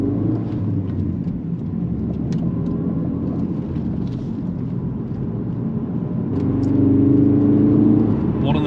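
A Ford Focus RS MK3 climbing a hill, its engine a steady low rumble with tyre and road roar inside the cabin, swelling louder in the last seconds as the revs rise, with a voice talking over it.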